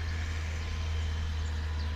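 A car approaches along a country road in rural Andalusia, southern Spain: a steady, low engine rumble holds evenly throughout without fading.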